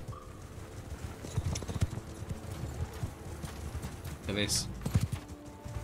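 Rhythmic hoofbeats of horses moving together in the video game Mount & Blade II: Bannerlord, busy and mid-distance, with a short spoken remark over them.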